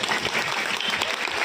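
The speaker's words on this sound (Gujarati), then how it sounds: "ગમ્યું હોય તો પાડો તાળીઓ બધા" A crowd at a political rally applauds steadily, a dense wash of clapping that stays loud and even from start to finish with no voice over it.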